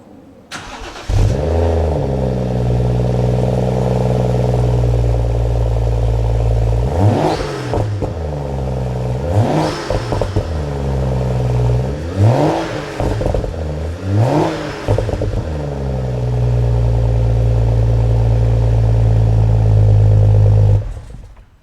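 A BMW F32 435 fitted with an Active Autowerke performance exhaust revs repeatedly from a steady idle, with four or five sharp throttle blips rising and falling in pitch before settling into a loud, sustained drone, heard close and without talk.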